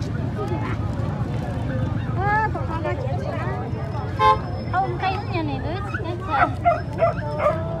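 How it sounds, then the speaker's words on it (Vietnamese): A dog barks several times in a bustling Hmong market in Vietnam's northwest highlands, short yelps scattered among busy crowd chatter and nearby voices. "Đấy, một em chó cảnh các bạn."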